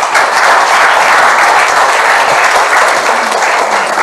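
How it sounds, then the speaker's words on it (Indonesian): Loud, continuous applause from a church congregation at an Indonesian Sunday worship service fills the space, a thick wash of many hands clapping at once, steady and close, with no voice rising above it. "Berikan tepuk tangan."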